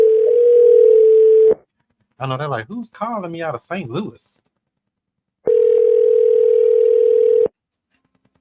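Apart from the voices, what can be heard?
outgoing telephone call ringing tone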